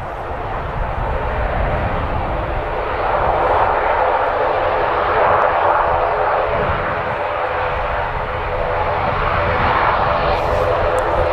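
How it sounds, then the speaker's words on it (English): A Virgin Atlantic Airbus A330 taxis out at Manchester Airport, its engines giving a steady, broad rumble and whine at moderate distance, while someone talks over it. "We've also got a Virgin Atlantic A330 on the taxi out as well."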